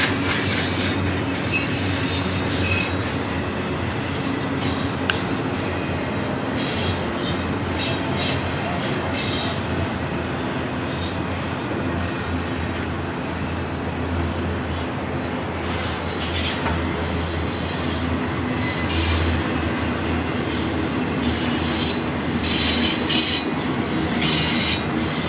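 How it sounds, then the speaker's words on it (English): A long freight train rolls steadily past on a cross-country line, with continuous rumbling, clicking wheels and intermittent high squeals, loud and near throughout. "Trains really do go across the country."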